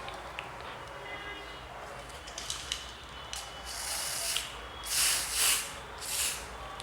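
A few short hissing bursts from an aerosol can of WD-40 lubricant sprayed onto a motorcycle lockset, in quick puffs, close by in a quiet room.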